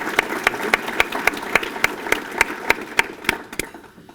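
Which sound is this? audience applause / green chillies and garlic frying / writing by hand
audience applause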